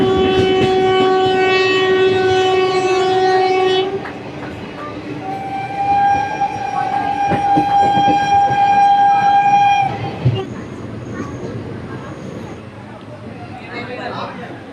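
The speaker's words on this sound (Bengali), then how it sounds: "ট্রেন অলরেডি এখান থেকে ছেড়ে আমাদের বেরিয়ে যাচ্ছে" A train pulls out of a railway station, sounding two long, loud horn blasts over a rumbling, rolling carriage noise, with people talking nearby.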